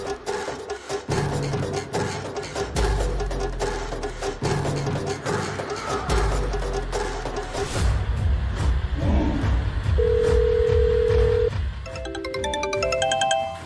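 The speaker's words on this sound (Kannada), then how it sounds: "ಅತ್ತೆ ಫೋನ್ ಮಾಡ್ತಿದ್ದಾರೆ." A phone rings with an incoming call, with quick rising melodic ringtone notes toward the end over a loud music background from a television serial scene.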